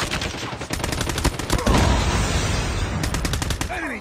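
Near-continuous automatic gunfire fills a Call of Duty Mobile firefight, loud and dense rattling bursts layered with explosions and in-game voice callouts throughout.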